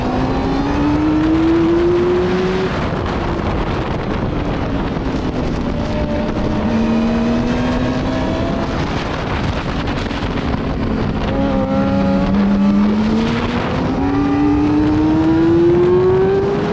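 A racing motorcycle engine under heavy throttle on a straight at an ASMA round at Wild Horse Pass West, a loud sustained whine rising and falling through the gears, close and mixed with wind roar.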